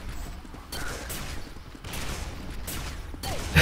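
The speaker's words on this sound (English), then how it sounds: "we're going to try to do some work with this shotgun" In a first-person shooter game, a shotgun fires several sharp booming blasts at irregular intervals, loud and close, over a busy wash of background game noise.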